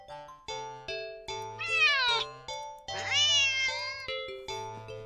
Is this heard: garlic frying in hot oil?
no